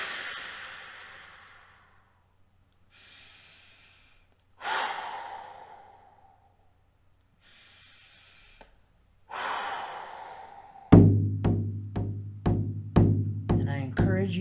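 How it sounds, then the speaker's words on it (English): Several deep cleansing breaths, slow audible inhales and long sighing exhales with pauses between, close and fairly quiet, followed by a sharper burst of rhythmic sounds at the end. "Please join me in taking 3 deep cleansing breaths."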